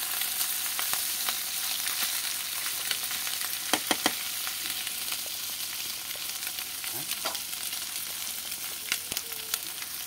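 Fish sizzles steadily in hot oil in a pan, with a continuous bright crackle and scattered sharp scrapes and clinks from stirring, close and fairly loud, no voices.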